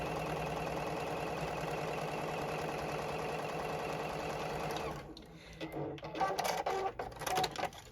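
A JUKI sewing machine stitches a quilted zipper bag with a steady, fast, even mechanical whir for several seconds. It then stops, leaving scattered handling rustles and clicks.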